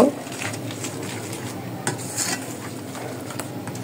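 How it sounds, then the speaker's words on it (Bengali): Milk powder stirred into chocolate donut batter in a bowl, a steady scraping and clinking of a utensil against the dish, close and continuous with no voices. "তো গুঁড়ো দুধটা দিয়েও নাড়াচাড়া দিয়ে নিব।"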